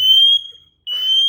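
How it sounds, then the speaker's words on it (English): A smoke alarm going off with a loud, piercing high-pitched electronic tone that cuts out briefly and then resumes. "Oh no, I triggered the alarm."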